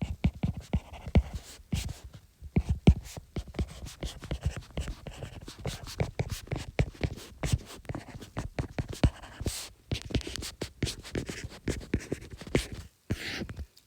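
A pen scratches out an equation on paper in quick, irregular strokes, close and fairly quiet, with short pauses between bursts of writing and no talking.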